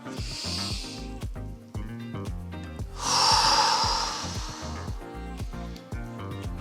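Deep, audible exhale during a spine-rounding mobility exercise in a strength and mobility workout, a broad breathy whoosh lasting about two seconds over steady background music.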